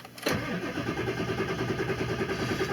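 A Ford 7.3 Power Stroke diesel truck engine finishes cranking with a quick burst, then catches and settles into a steady, close, rumbling run while cold.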